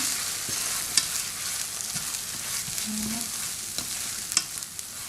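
Beaten eggs are stirred into Cantonese fried rice in a hot pan, giving a steady close sizzle with repeated scraping and tapping of the utensil against the pan throughout.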